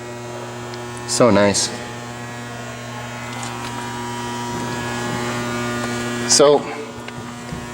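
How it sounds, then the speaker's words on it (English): The VR6 engine of a 2009 Volkswagen Touareg idles with a steady, even hum, heard close and continuous while a person speaks briefly twice over it. "that is the engine."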